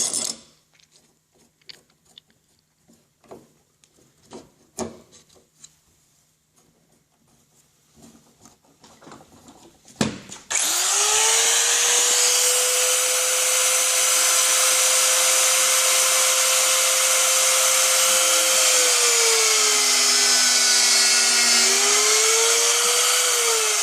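A doweling machine drilling two holes in a wooden workpiece: scattered handling clicks and taps, then a sharp start into a loud, sustained motor whine with a steady drilling tone that dips slightly as the bits cut.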